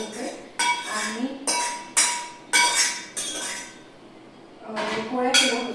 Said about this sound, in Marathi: आणि हे जे भांडे आहेत ते आधी मी बाहेर ठेवून देते